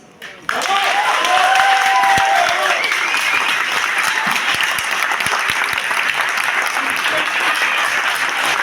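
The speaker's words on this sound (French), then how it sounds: "On peut l'applaudir franchement." Audience applause and clapping following a sung performance at a casting event, a dense, sustained burst starting suddenly after a brief quiet moment and staying loud throughout, with crowd noise mixed in.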